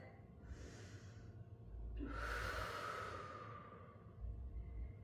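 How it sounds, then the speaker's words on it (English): Slow, deep breaths during a gentle yoga flow, a soft airy inhale followed by a longer, louder exhale, close to the microphone over a low background hum. "Give yourself 2 more breaths."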